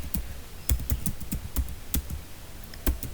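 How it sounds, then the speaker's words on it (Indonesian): Keystrokes on a computer keyboard while a search query is typed: irregular, crisp taps in short bursts, moderately close and with no talking. "lalu kita ketik administrasi"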